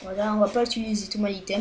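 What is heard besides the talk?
None of the usual background noises is heard.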